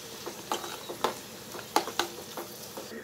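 Cashews and dried fruits fry in hot ghee for mutton biryani, giving a soft sizzle punctuated by scattered sharp pops and crackles at an irregular pace, close by and fairly quiet.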